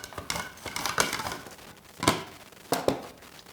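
Lemons being sliced into rounds on a mandolin slicer give sharp, crisp scraping strokes, several in an uneven rhythm, close and moderately loud.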